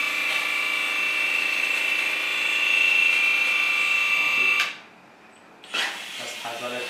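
The hydraulic pump of a 1/14-scale JDMODEL V2 metal RC excavator whirs with a steady, thin mechanical whine up close, cuts out briefly, then starts again more quietly.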